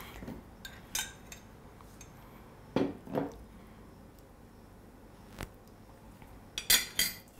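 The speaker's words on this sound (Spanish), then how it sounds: "Y mezclamos hasta que se humedezca la masa." Nutella and hazelnut cookie dough stirred in a bowl, sparse scraping and clinking strokes of a utensil against the bowl, quiet and close with pauses between.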